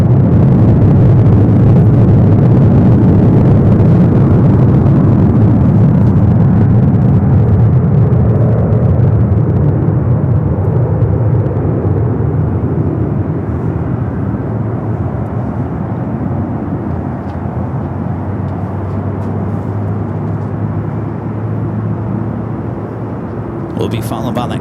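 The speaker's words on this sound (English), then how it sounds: "It's a 24-year-old 737-800." A 24-year-old Boeing 737-800 takes off from runway 24 left at LAX, a loud, deep jet roar that starts full and slowly fades as it climbs away, with a person talking over it.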